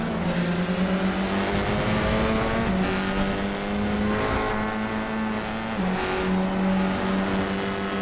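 An Audi RS3 TCR race car in the iRacing simulation at Indianapolis road course, a loud steady engine drone with brief dips and pitch shifts as the throttle is feathered, heard alone.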